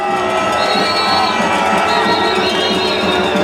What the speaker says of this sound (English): The vehicles just went by and they're getting loud boos from everyone.